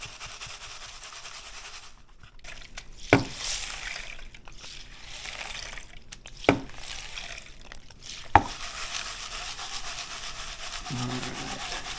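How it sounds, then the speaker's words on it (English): A gold pan of gravel and water being shaken, a continuous gritty swishing and rubbing of stones in water, broken by a few sharp clicks from pebbles knocking the pan. "shaking the pan around, what you're doing is you're loosening things up"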